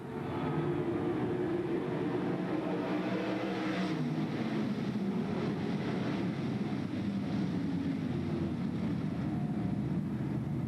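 Race cars at Bedford Speedway throttling up on the green flag, a dense continuous engine roar that stays loud and steady, with overlapping motors blending into one wide drone.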